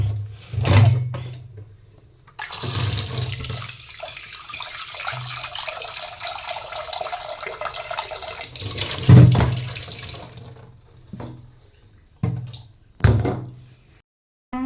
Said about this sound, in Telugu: ముందుగా మనం కుక్కర్ తీసుకొని దానిలో కందిపప్పు వేసుకొని 1-2 సార్లు నీట్గా వాష్ చేసుకోవాలన్నమాట.